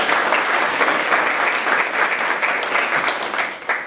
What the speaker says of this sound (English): give a round of applause to Amy Swan from Kentucky Youth Advocates